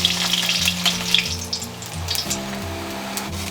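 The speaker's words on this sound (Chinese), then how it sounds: "把鸡蛋给它煎一煎" Eggs frying in the leftover oil of a pan after tofu was browned in it, a steady close crackling sizzle with bright spits and pops running throughout.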